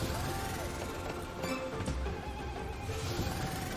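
A horse neighs in the Buffalo Win slot game, a whinny sound effect layered over dense, busy game music that runs without a break.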